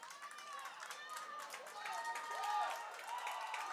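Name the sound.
football crowd getting riled up, cheering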